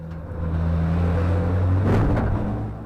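Engines of big racing trucks in an FIA European Truck Racing Championship race drone loudly as they pass, a heavy low rumble that swells to a peak near the middle before easing slightly.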